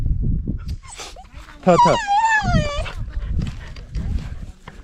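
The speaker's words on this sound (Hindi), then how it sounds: "I call this dog and वो भागते भागते आ गया मेरे पास।" A local dog on a mountain trail in the Mahendragiri Hills gives a drawn-out whining howl mid-clip, close and fairly loud, while people talk around it.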